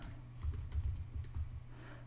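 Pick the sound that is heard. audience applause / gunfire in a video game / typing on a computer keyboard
typing on a computer keyboard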